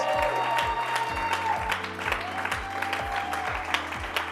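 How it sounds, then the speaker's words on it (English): A crowd claps steadily, rhythmic applause at moderate volume with some faint voices mixed in. "you gotta cheer on, let's hear this"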